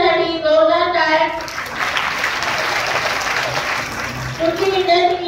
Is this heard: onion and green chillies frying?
no